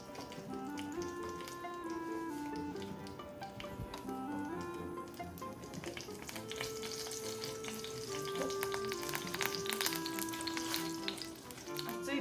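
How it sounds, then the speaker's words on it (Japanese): Bacon spring rolls deep-fry in hot oil, a steady close crackling sizzle with scattered ticking pops that lasts throughout, with faint tonal background music underneath. "じゃあ揚げていきます。"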